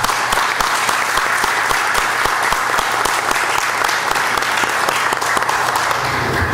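Committee members at a citizen security committee meeting applaud together, a dense, steady round of clapping that carries on at even strength throughout.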